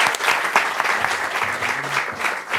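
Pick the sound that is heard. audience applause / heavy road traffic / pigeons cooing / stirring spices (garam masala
audience applause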